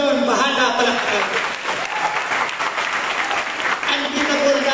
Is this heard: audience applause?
yes